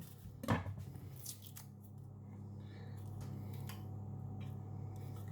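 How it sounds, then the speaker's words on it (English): An onion being peeled and cut with a knife, a short crisp tearing and snipping burst at the start followed by quiet scraping against a low background hum, close and faint. "So I'll start off by peeling and cutting this onion."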